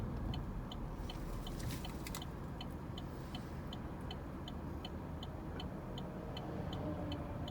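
Car driving through downtown Knoxville near World's Fair Park, a steady close road and engine rumble with a regular ticking, likely a turn signal, throughout and no talking.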